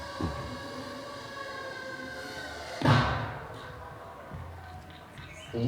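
A tiny shaped charge holding 3 grams of explosive goes off once as a sharp, close bang, with a broad rumble of background noise before and a brief decaying tail after.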